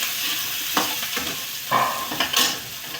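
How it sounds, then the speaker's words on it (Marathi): Onion frying in a pan, with salt being added: a steady sizzle with a few scraping stirs and light clinks, close and moderately loud, no voices. "कांदा फ्राय होता याच्यात मीठ घालायचं."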